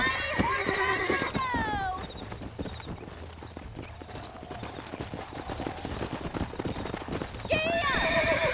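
Horses in Red Dead Redemption 2 gallop with rapid hoofbeats throughout, and loud whinnies ring out at the start and again near the end over the running hooves.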